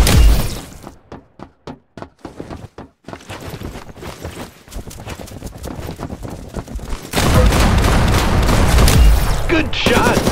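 Rapid bursts of gunfire in the Roblox game Arsenal 2, sharp shots spaced at first and then merging into a loud, dense volley toward the end, with game sounds and faint voices mixed in.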